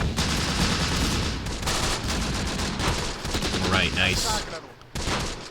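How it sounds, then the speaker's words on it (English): A dense battle din in the Close Combat wargame is punctuated by a tank gun firing at a rifle team, with crackling small-arms fire filling the background. Someone talks briefly over the noise. "that was definitely the tank firing at the rifle team"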